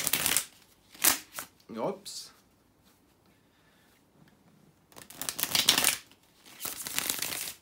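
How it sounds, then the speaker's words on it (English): Tarot cards are riffle shuffled in quick papery bursts, two clusters early and a longer run near the end, close up, with a short spoken exclamation between them. "So let me shuffle the cards in really good way. What I mean, it's a riffle."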